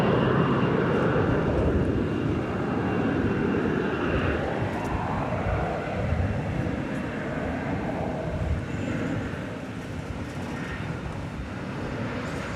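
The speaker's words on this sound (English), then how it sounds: "777 200 ER is on its way over the bridge to the east side for takeoff." An American Airlines Boeing 777-200ER taxis for takeoff at DFW Airport, a steady low jet engine rumble and roar at moderate distance, slowly easing in level over the stretch.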